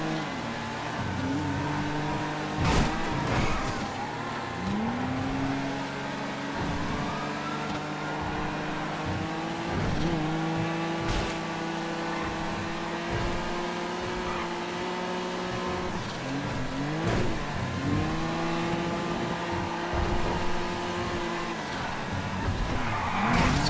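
Car engines roar in the GTA FiveM video game, with repeated drawn-out tire squeals and skids as the vehicle slides through corners at steady, close volume.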